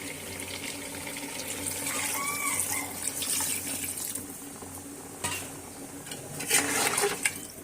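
Broth poured into a pot of simmering duck curry with garlic and green chilies, a steady near liquid pour and splash with faint stirring clinks, no talk.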